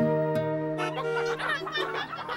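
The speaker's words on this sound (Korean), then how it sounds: "아, 트럭에서 나온 닭들 때문에 길이 막힌 거였군요." Chickens spilled from a truck onto a road cluck and fuss in a cartoon scene, several short bird calls rising over a sustained musical tone, fairly close and clear.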